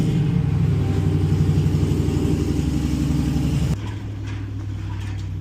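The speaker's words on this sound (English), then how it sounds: "Fire up his truck and open his door." A truck engine idles with a steady mid-pitched rumble and clatter, then drops abruptly to a quieter idle partway through.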